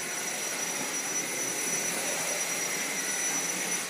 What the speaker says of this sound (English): it's me vacuuming.